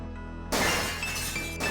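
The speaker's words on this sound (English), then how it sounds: "Gabriel hears the faint sound of breaking glass" Glass shatters in the Gabriel Knight point-and-click adventure game, a sudden crash of breaking glass with tinkling fragments over a low, steady background hum.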